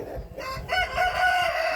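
Roosters crowing with drawn-out calls that overlap one another, fairly close, with farmyard noise in the background.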